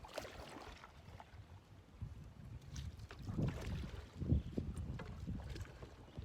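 A sailing canoe moving downwind on a very shallow river, with soft water lapping and wind buffeting the microphone in a steady, quiet wash and no talk.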